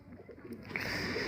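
Domestic flying pigeons of the feeke baajre type cooing in a loft; a short, low, soft burbling coo, fairly close, with a steady background hiss.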